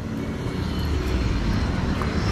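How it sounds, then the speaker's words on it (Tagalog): A camera drone hovers overhead at an outdoor biking and jogging spot, its propellers producing a loud, continuous buzzing whine with a steady low hum throughout. "Ayan na po ang drone, nalipat na."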